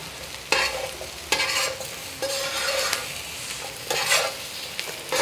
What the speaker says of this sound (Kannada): ನೋಡಿ ನಿಮಗೆ ಆಯಿಲ್ ಕಮ್ಮಿ ಇದ್ದಷ್ಟು ಹೆಂಗ್ ರೋಸ್ಟ್ ಆಗ್ತಿದೆ